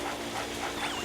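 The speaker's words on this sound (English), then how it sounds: "make that yappy dog be quiet" Yappy dog whimpering in the Luigi's Mansion video game, a steady high whine with short yelps near the end over a dense game soundtrack backdrop.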